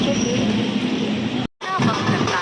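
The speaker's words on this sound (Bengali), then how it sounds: "আমাদের ট্রেনটা ঢুকেও গেছে। চলে এসেছে ট্রেন।" A train pulls into a station with a loud, steady rumble and rolling clatter that fills the whole stretch, broken by one short cut, while voices of people on the platform mix in.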